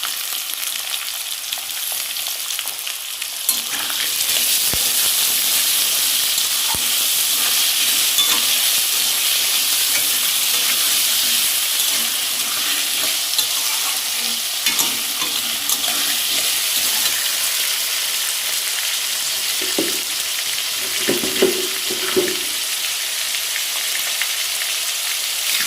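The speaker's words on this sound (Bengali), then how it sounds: "আমার এখানে আলুটা ভালো করে কষানো হয়ে গেছে" Potatoes sautéing in a pan with ginger garlic paste and salt give a steady, loud broadband sizzle throughout, with a few brief scraping stir sounds near the end and no talk.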